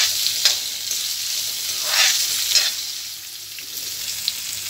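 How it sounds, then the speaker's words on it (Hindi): Onions sizzling and frying in a pan, with carrot and capsicum about to join them, a steady broadband hiss with a few brief stirring swells, close and continuous with no talking. "अनियंस को मैं 1/2 मिनट के लिए थोड़ा सा फ्राई कर लूँगी।"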